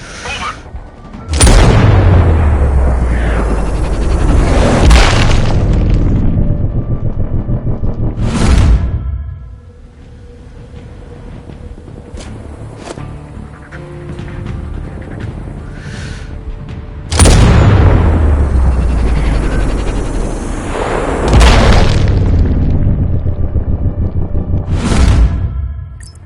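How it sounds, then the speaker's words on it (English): Two heavy booming mortar blasts in the video game Sniper Ghost Warrior Contracts 2, each followed by a long rumbling roar that fades out, separated by a quieter stretch of faint background noise. "Explosion heard."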